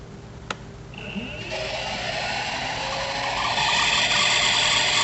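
A Rainbow E-series vacuum cleaner motor whirs up from a click of its rocker switch and keeps running steadily, growing slightly louder with a high-pitched whine, no voices.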